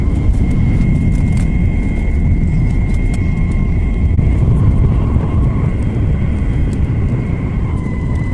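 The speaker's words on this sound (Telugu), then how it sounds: "ఓకే, ఫ్లైట్ అయితే స్టార్ట్ అయిందండి." Loud, steady jet-engine drone fills a passenger airliner cabin as the flight bound for Hyderabad gets underway, a constant low roar with a faint whine above it, unbroken and without talk.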